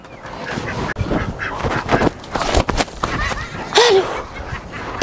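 Domestic ducks being chased, giving short, honking quacks in scattered bursts among scuffling and movement, with voices and laughter mixed in nearby.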